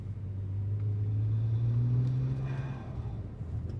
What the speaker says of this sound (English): straight away, the turbos are quite noticeably louder